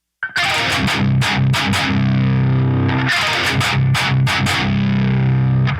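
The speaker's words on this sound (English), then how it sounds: "And then chugging on the E." Heavily distorted electric guitar chugging on a low string, with rhythmic palm-muted bursts and ringing accents, loud and continuous without any voice.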